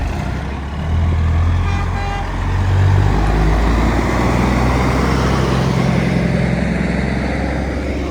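A local delivery truck idling and pulling through at a shop, a steady low diesel rumble with a brief tonal hum rising early on, fairly close and continuous.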